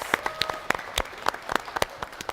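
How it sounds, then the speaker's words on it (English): Scattered applause from a small audience welcomes two quiz teams back on stage, a handful of separate claps spaced out over a couple of seconds, sparse and fairly close. "Give them a round of applause"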